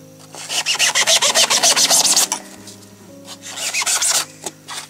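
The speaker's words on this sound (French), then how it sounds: "vous pouvez former la planche de mousse exactement à la forme que vous souhaitez" A floral foam block is scraped and shaped into a ball, giving rapid, rhythmic rasping strokes in two loud bursts with a short pause between, over faint steady background tones.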